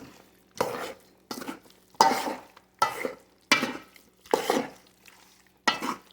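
A spoon stirs Scotch bonnet pepper and black pepper into curry chicken in a pot, giving repeated bursts of scraping and stirring at a steady rhythm with brief pauses between strokes, close and moderately loud.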